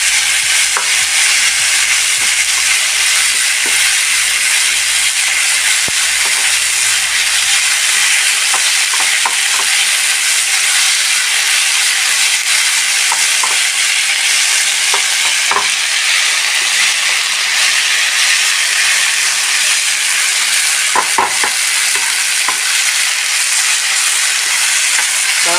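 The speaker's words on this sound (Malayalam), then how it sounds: "നന്നായി മിക്സാക്കാം." Raw plantain stir-fry (mezhukkupuratti) hisses steadily in a hot pan while a spoon stirs through it, with occasional scraping clicks and knocks against the pan over a loud continuous sizzle.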